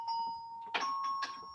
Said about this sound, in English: If you want to tune the harp, you can match it with the bells.